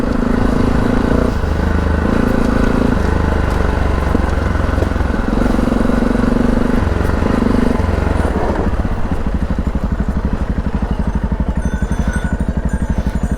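A small adventure motorcycle, ridden after a Triumph Tiger on a Transylvanian trail in Romania, runs close and loud with a steady engine drone and rhythmic clatter throughout.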